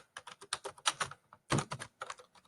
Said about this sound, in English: I'm just doing the typing